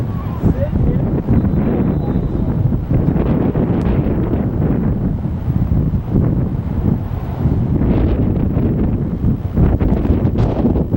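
Strong wind buffeting the microphone at an outdoor high school baseball game, in steady, rumbling gusts, loud and constant throughout, with a voice partly audible beneath the noise.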